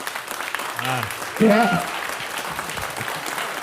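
An audience applauds a guest at a gaming convention Q&A, steady clapping throughout while a voice speaks briefly over it.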